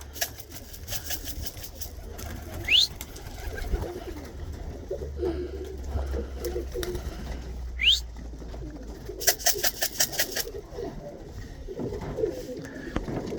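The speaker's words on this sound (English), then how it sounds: "It's Dorothy, the old bird." Tippler pigeons coo at a loft, with soft repeated calls over a steady low outdoor hum and a few brief higher chirps.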